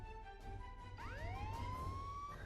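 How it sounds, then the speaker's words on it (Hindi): A police siren plays from an old phone in an animated forest scene, its wailing tone rising and sweeping up and down continuously at moderate volume over a low background hum. "अरे ये तो पुलिस की आवाज लगती है"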